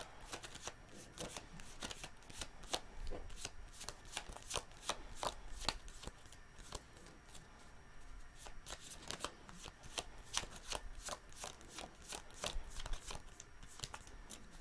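Tarot cards are shuffled and drawn in quick, crisp riffling bursts that repeat rhythmically and fairly close, with no voice over them.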